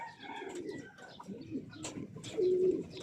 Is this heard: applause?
no